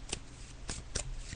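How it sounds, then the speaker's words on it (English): Tarot cards being shuffled by hand, with three short crisp riffling bursts spread over about a second, close and fairly quiet, with no voice. "So I'm just shuffling the cards now, JJ"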